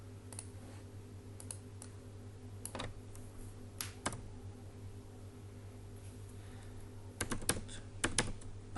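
Computer keyboard typing while writing Python code: quiet, scattered keystrokes over a steady low hum, with quicker clusters of taps toward the end. No speech.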